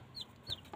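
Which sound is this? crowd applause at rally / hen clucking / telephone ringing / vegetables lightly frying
hen clucking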